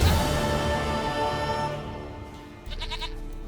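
Goat bleating in the video game The Witcher 3 Wild Hunt, a short wavering bleat near the end over a steady bed of ambient game music.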